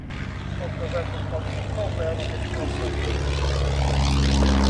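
The propeller engine of an aerobatic RAF monoplane trainer drones at an evening airshow, with a buzzing tone that builds steadily louder over a few seconds as the aircraft approaches, while someone talks over it.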